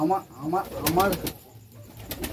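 Pigeons cooing close by in soft repeated rolling coos, mixed with someone talking, with a few sharp clicks and a brief flutter in the background.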